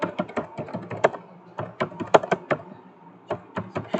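Typing on a computer keyboard, close and crisp, with irregular clusters of quick key taps and short pauses between bursts.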